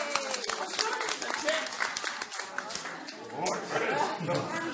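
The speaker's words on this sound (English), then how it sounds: "Give her a clap." A small group claps briefly for a child volunteer at a homeschool Halloween creepy-crawlies activity, with voices and chatter over the patter throughout.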